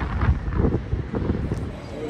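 Gusty wind buffets a microphone outdoors on a wet, blustery day in New York City, producing low rumbling surges that rise and fall across the moment.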